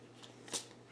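Large board game cards are laid onto a table, giving a single soft, quick card slap over quiet room tone, with no talking.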